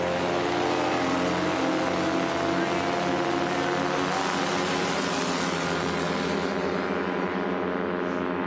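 Stock yellow Carbon Cub aircraft engine at the start of a STOL drag race heat, a loud sustained propeller drone at high power, steady and close before easing away at the end, with an announcer talking over it.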